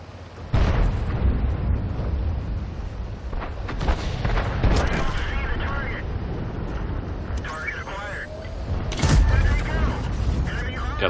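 A tank cannon fires in World of Tanks amid rumbling engine and battle noise, with two sharp, loud broadband blasts standing out against a steady mechanical drone, while a voice talks at points.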